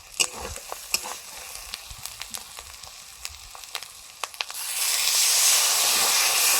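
Spice paste sautés in a pan as water is added while a Bengali fish curry is cooked. Scattered ticks and sizzles give way to a loud, steady hiss of steam and frying.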